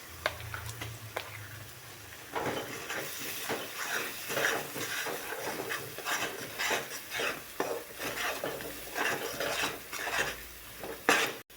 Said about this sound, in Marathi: मसाला आपला जो वाटण केलेला आहे आपलं हे ते ह्याच्यामध्ये टाकायचं